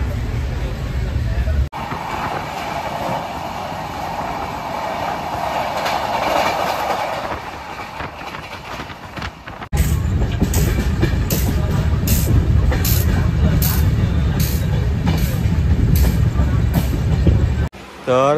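A passenger train on the Aaganewadi special route to the Konkan rumbles loudly nearby, its wheels clattering in a steady rhythmic clickety-clack on the rails, with faint voices underneath.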